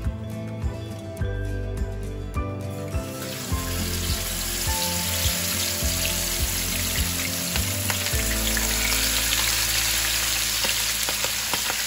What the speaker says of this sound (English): so we're gonna drop these fish in